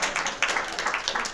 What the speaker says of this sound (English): let's give Wendy another round of applause.